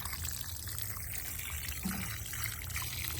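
A gallon of water-soluble fertilizer solution is poured onto the base of a zucchini plant in a garden, a steady close trickle and splash of liquid that runs without a break.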